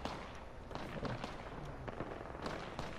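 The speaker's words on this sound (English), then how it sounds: "Gunshots northeast." Sharp, rapid gunshots crackle in bursts from the northeast during an Apex Legends match, distant and mid-level with dense in-game ambience.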